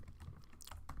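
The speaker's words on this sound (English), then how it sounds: "My typing gets worse every time." Quick, uneven keystrokes clatter on a computer keyboard while Java code is typed, faint and close, with no talking.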